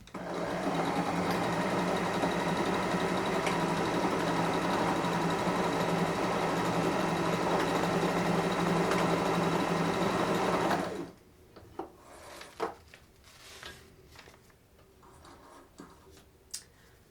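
A sewing machine runs steadily with a fast mechanical whir for about ten seconds, then stops, leaving a few quiet clicks and taps.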